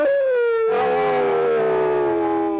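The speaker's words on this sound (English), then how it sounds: "Kalat, a pony-sized Martian dog with a frog-like head." Creature howl used as a 1957 film sound effect for a pony-sized Martian dog with a frog-like head: one loud, drawn-out howl that slowly falls in pitch, heard alone.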